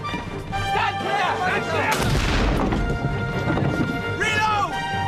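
On a sailing warship in a TV drama, a ship's cannon fires wadding with a heavy booming blast in mid-clip, set among shouting crew voices before and after it.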